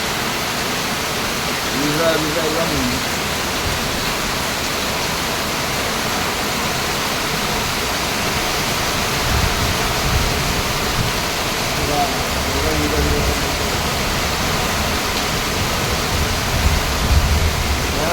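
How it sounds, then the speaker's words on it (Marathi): Heavy morning rain pours down in a loud, continuous, even roar that fills the whole stretch, with scattered bits of indistinct speech faintly under it. "पाऊस बघा कसला धुवाधार पडतो विजांचा कडकडाट पाऊस पडतो"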